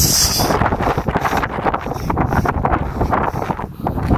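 Strong seaside wind buffets the microphone on a clear day by clean water in Japan, a steady rough roar with gusty swells lasting throughout.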